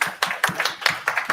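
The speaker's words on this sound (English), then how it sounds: "Please give an applause." Sparse clapping from a few hands at an English-language tech lightning-talk meetup, with distinct individual claps in an uneven rhythm, moderately loud and close, no one talking over it.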